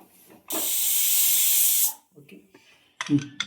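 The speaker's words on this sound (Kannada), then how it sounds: "ಈಗ ಕುಕ್ಕರ್ ವಿಷಲ್ ಹೋಗಿದೆ ತೆಗಿತಾ ಇದ್ದೀನಿ" A loud, steady hiss of steam bursts from a pressure cooker for over a second, then cuts off, followed by faint clinks and kitchen sounds.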